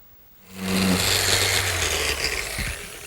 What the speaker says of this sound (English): Now for some final sanding.